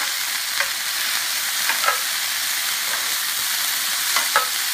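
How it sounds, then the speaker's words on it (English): Vegetables stir-fry in a hot pan with a loud, continuous sizzle, while a few light scrapes and taps from a utensil stirring them stand out at intervals. "So we're just going to stir fry this, not for more than 2 minutes, because I don't want my vegetables to go limp"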